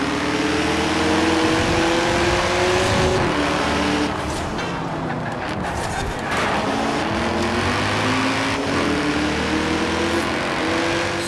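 A 6.3-litre racing car in Forza Horizon 4 powers around the Edinburgh Station Circuit in a road race. Its engine drones loudly and continuously, with pitch rising and falling through the gears.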